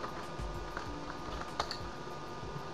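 Keys tapped on a computer keyboard in quick, irregular bursts, close and fairly soft, with no voice over them, as commands are entered into a network switch lab.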